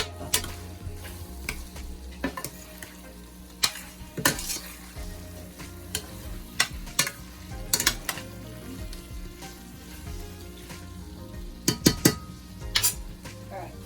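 Ackee and saltfish sizzle steadily in a pan that is shaken and stirred, with sharp clatters of metal and utensil knocks scattered irregularly over the frying hiss, close and fairly loud.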